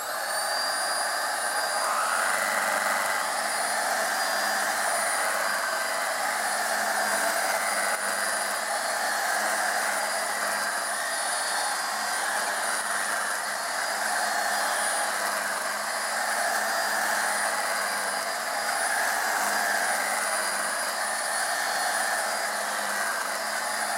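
A Hoover Air Ultra Light vacuum cleaner runs steadily for the whole stretch, a loud, constant whirring whine with a high motor tone and no talk.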